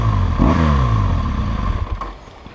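A BMW R1200GS motorcycle engine starts with a short crank, then revs and pulls away. The engine is close and loud, with a clattery mechanical edge, and the note fades as the bike rides off.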